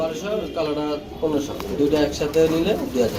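Female pigeons cooing at a pigeon sale give low, throaty coos close by, while someone talks steadily over them.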